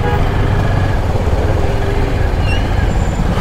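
A Haryana-registered HR51 vehicle travels along a road, its engine and tyre roar forming a loud, close, unbroken rumble that holds steady for the few seconds heard.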